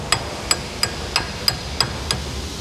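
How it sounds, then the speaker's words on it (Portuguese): A hammer taps a rear suspension bushing on a Hyundai ix35, seven sharp metallic knocks at a steady, slightly uneven pace, close and clear over quiet workshop background. "deixa eu dar uma reladinha com o martelo"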